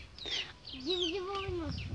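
Chirping calls from a young chick in a village garden, a few rising and falling peeps in quick succession, fairly close and clear with no talk over them.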